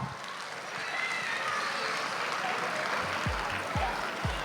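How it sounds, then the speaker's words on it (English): An audience at a CGR International School annual day in Hyderabad applauds a school performance: a steady wash of crowd clapping, moderately loud and fairly distant, with a few low thumps near the end. "Let's give them a big round of applause."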